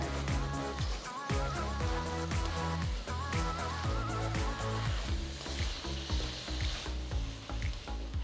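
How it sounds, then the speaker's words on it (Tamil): Egg mixture frying in oil in a kadai for Thai chicken fried rice, a continuous sizzle with stirring and scraping, while background music plays throughout. "கடாயில் எண்ணெயை ஊற்றின பக்கம் முட்டை கலவையை அப்படியே ஊற்றி பிரட்டி விடுங்க"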